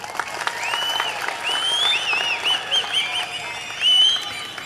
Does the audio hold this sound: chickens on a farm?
no